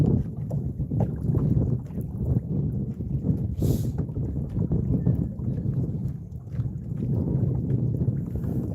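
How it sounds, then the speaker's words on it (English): Wind buffets an outdoor microphone beside Lake Wilhelm during a fishing trip, a steady low rumbling roar with gusty surges that runs the whole time, loud and close, with no voices over it. "Can you guys hear the wind with this new headphone?"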